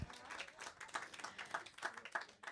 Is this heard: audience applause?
yes